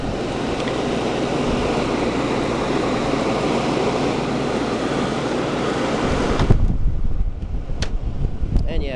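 Air conditioner switched to high cool, a loud steady broadband roar of blowing air with a low hum that cuts off abruptly around six seconds, followed by quieter clicks and rattles.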